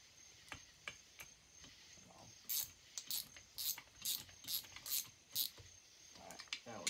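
A ratchet tightening short bolts on a McCulloch 800 engine block, giving a rapid series of clicking bursts in a regular rhythm, close and clear against a quiet workshop background.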